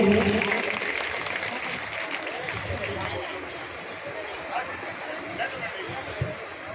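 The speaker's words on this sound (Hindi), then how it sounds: "एक बार जोरदार तालियां हो जाए हमारे भाई जी के लिए" A village crowd at a Bhagwat Katha in Bhenkuri claps for a guest, a dense wash of applause that is loudest at first and slowly tapers, with voices and crowd murmur mixed in.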